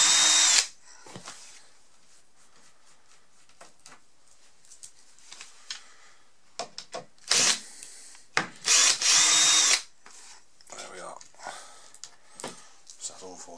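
A power screwdriver removes screws from a Marshall JVM guitar amp, several short whirring bursts separated by pauses, close and loud, with clicks and handling noises between them.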